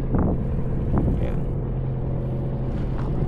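A boat motor runs at a pier in Caticlan, a loud steady low rumble close by throughout, with no talking.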